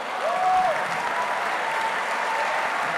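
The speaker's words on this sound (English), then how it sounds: "One more round of applause for Ms." Audience applause filling a high school gym at an Easton Area High School Day event, a steady, even wash of clapping sustained throughout, with a faint tone carrying over it.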